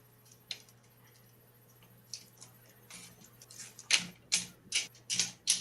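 Scissors trim a pine cone craft held over a trash can, giving a few faint snips early on, then a quick run of louder, sharp, closely spaced cuts toward the end.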